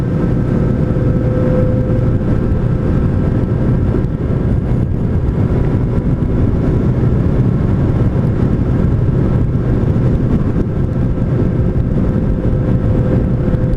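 A Yamaha FZ8N motorcycle sweeps through bends with a constant loud engine drone mixed with heavy wind rush across the microphone, with no voices and no breaks.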